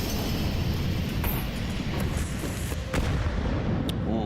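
A grenade detonates in a Counter-Strike 2 match at a major tournament, giving a heavy low rumble amid continuous gunfire and battle noise.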